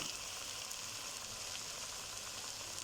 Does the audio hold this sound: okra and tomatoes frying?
yes